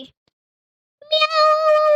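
A single drawn-out cat meow from a Minecraft animation, loud and close, with a steady tone after a brief click.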